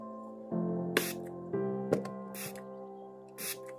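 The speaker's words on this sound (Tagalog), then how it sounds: "And last one is mag-spray tayo." Spray bottle misting a newly built terrarium, giving a few short, close hissy bursts spaced a second or so apart over a steady low background hum.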